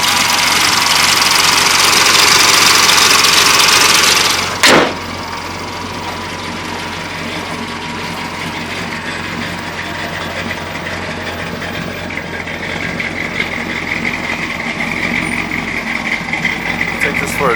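A 1970 Monte Carlo with a Holley Sniper 2 fuel-injection kit still in learn mode runs steadily, a loud, close engine drone with a brief louder rev at the start and a faint knocking rumble throughout.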